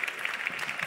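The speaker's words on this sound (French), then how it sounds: "je pense aussi qu'on peut les applaudir" Brief burst of audience applause at a roundtable panel on funding during a digital-industry event, a steady dense patter of many hands clapping for about a second.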